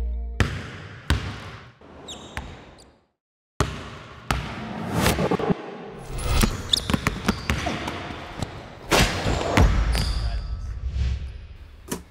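A basketball highlight edit mixes fast whoosh effects with in-camera court sound, sharp ball bounces and hits punctuated by sweeping swishes and a brief silent gap, loud and busy throughout.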